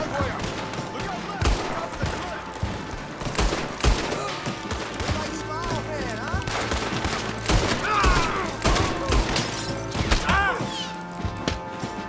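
Gunfire rings out in the video game Red Dead Redemption 2, repeated loud, close shots in irregular bursts mixed with impacts, mechanical clatter and game voices.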